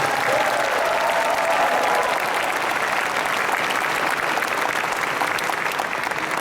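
Convention audience at an anime festival's opening ceremony applauding the performers, a steady, loud wash of clapping from a large hall crowd that holds evenly for several seconds.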